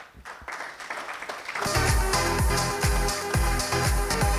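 Applause breaks out at an award function after a winner is named, quiet at first then swelling into loud, sustained clapping from a crowd.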